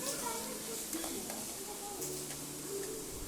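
Chopped tomatoes are stirred as they fry in a pan for capsicum kurma. A steady sizzle runs under scraping spoon strokes, with faint cooing birds in the background.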